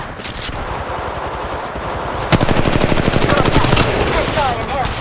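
Rapid automatic gunfire from Apex Legends Mobile, loud and sustained bursts that intensify midway, with dense overlapping shots and a faint voice underneath.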